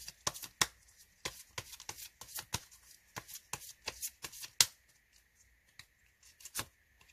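Tarot cards are shuffled by hand for a message-card draw, a steady run of crisp riffling flicks and soft slaps, close and fairly quiet, with no voice.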